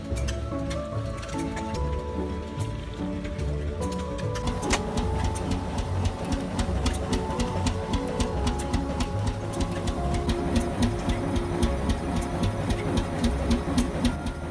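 An old steam engine, revived after fifty years of abandonment, drives a bandsaw mill cutting raw timber into beams, a loud, steady mechanical churn with rhythmic chuffing and a grinding drone that thickens midway.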